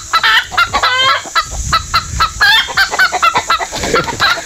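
Chickens cluck in short, choppy bursts close by at a rural spot in Bolinao, Pangasinan, with agitated squawks repeating throughout and a low rumble underneath.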